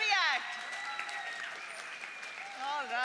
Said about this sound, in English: A huge round of applause for the Mercury Act.